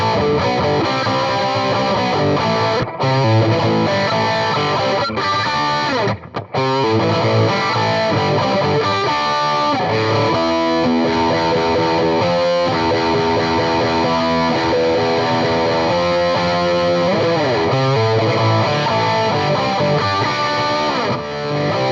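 Heavily distorted tone from an EVH Wolfgang Special electric guitar with a quilted maple top, gated by a Boss noise suppressor and set with low reverb, playing steadily and loudly for the whole passage with only brief gaps.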